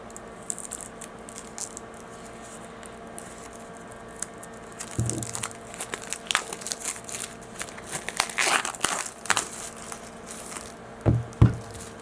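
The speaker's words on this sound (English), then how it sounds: "Get that paper out of the way." Paper wrapping crinkles and tears as it is pulled off a boxed oracle card deck published by US Games Systems. Quiet handling comes first, then a busier stretch of rustling, crumpling and small knocks, close to the microphone.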